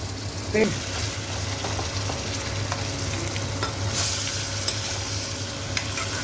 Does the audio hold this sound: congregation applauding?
no